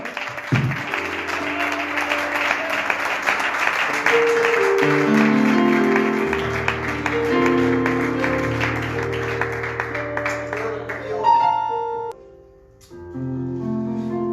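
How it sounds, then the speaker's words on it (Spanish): A church congregation claps together in sustained applause over a band playing music, the clapping dense through the first half and then blending into the music as it continues and briefly dips near the end. "Un aplauso al Señor."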